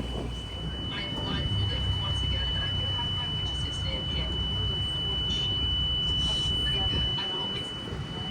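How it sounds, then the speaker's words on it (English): A steady high-pitched high water alarm sounds continuously on a 32-foot Boston Whaler Vantage boat, with engine rumble and wind underneath and occasional voices. "including the high water alarm that's freaking out"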